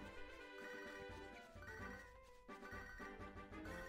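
An in-game phone rings in a Pokémon video game, a short stepping electronic melody that is faint and continuous, with no speech.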